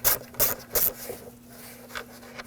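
A plastic engine cover lifted straight up off a 2007-2013 BMW 328i 3.0L inline-six, giving three quick close scraping, rubbing bursts in a row, then a fainter rub near the end over a steady low hum.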